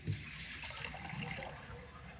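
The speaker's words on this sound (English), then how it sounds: "I'm just gonna pour this in there" Liquid poured into a cooking pot on a home stove, a steady soft splashing pour lasting about two seconds, fairly quiet and heard alone.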